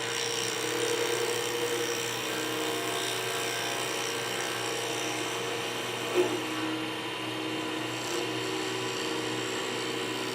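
Pen blank of resin and cholla spinning on a lathe at 3,900 RPM, a steady high whine with a continuous broadband hiss of cutting, alone with no voices.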